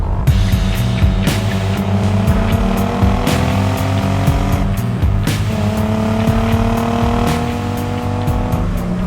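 The straight-six engine of a BMW 333i pulls hard under acceleration from inside the cabin, a loud, sustained rising drone with gear changes interrupting the climb.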